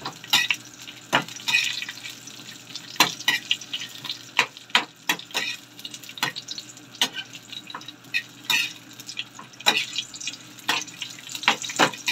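Food gets stirred in a hot pan with a spatula, giving irregular scraping clatters and knocks over a soft background sizzle.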